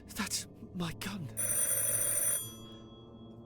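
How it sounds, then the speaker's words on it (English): A telephone bell rings in a steady burst for about a second, loud and close, cutting across a voice speaking before it. "Phone is annoying me so much."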